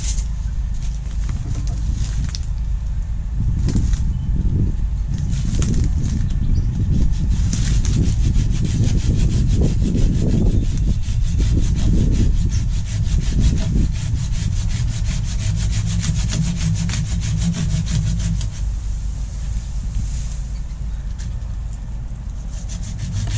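A small tree is sawn down by hand, with steady back-and-forth strokes of a saw through green wood running loud and close for most of the stretch, then slowing and fading toward the end.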